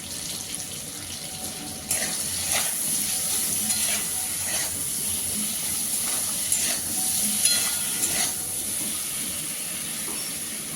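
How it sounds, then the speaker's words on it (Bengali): Ginger and green cumin paste with chili pastes, salt and turmeric sauté in a pan for a katla fish curry with squash and potato, giving a constant hissing sizzle broken by occasional spoon scrapes and stirs; no voices. "সব মশলাগুলো তিন থেকে চার মিনিট সময় ধরে আবার কষিয়ে নিচ্ছি"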